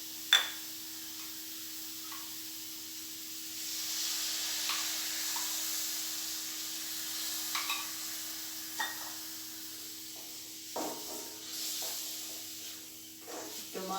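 Tomato sizzles with salt in a pan for a sardine curry, a soft, steady frying hiss with an occasional faint tap or scrape of stirring and a low background hum.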